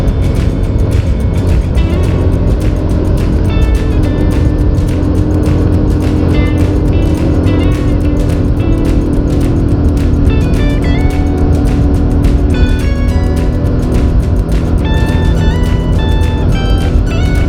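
A motorbike running with a newly replaced piston, heard while riding toward a waterfall at Bukit Kana, gives a steady loud engine drone with wind rush that stays constant throughout.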